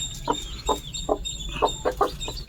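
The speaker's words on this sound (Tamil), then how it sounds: "பார்த்தீங்களா, ஒரு குஞ்சு இருக்குது." Several short, sharp chirps from a newly hatched chick repeat irregularly, close by, over a faint low background hum.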